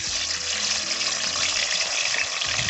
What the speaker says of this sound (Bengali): এবারে চিকেনগুলো আমরা অল্প অল্প করে বেছে বেছে ফ্রাই করে নেব